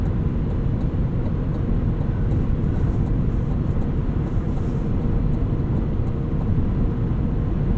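Steady, loud engine drone from the supercharged 6.2-liter V8 of a 2025 Cadillac Escalade V heard from inside while driving, a continuous broadband roar with no talk.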